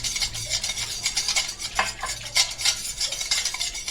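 A spoon stirs a mixture briskly in a bowl to dissolve it, making rhythmic scraping and clinking strokes, close and fairly loud, with no voices.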